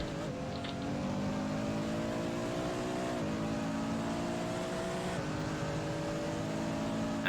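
A race car engine in a sim racing game drones steadily at high revs, its pitch rising and shifting through gear changes roughly every two seconds, with no talking.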